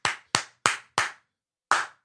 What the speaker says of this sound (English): Are we clapping for Scotty J?